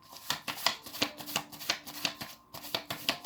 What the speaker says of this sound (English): I'm just going to shuffle a bunch of them